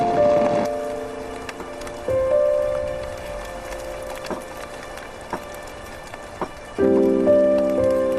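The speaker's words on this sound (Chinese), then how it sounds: "怎么下雨了？" Steady rain patters on surfaces in an outdoor scene in a Chinese historical drama, a soft continuous spatter lying under sustained music tones and a few sharper drips.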